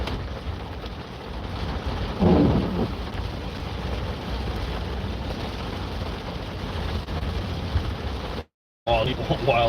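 A thunderstorm with heavy rain roars continuously, a dense wash of downpour with low rumbling beneath it and a brief swell near the start, loud and enveloping with a short dropout near the end.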